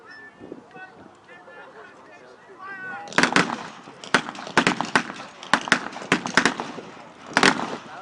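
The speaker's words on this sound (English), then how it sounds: "And there the Sten gun, ladies and gentlemen." A Sten gun fires blanks at a historical re-enactment festival: after a voice, a rapid series of sharp cracks in short irregular bursts rings out loud and close.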